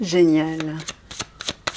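Tarot cards are shuffled and drawn in a few quick, close papery snaps and flicks after a short spoken word.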